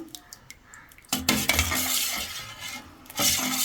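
Homemade fabric softener being stirred and mixed in a container: brief light taps at first, then a sustained busy swirling, sloshing stir with clinks of the utensil, close and fairly loud, with no talking.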